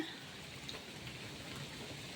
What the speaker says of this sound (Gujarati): તો મિત્રો જો વરસાદ આપણી ચાલુતા થાય છે